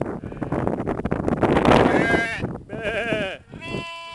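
A goat or sheep bleats loudly and close while being fed, drawn-out wavering cries in the second half after a stretch of wind-buffeted rustling and a man's speech.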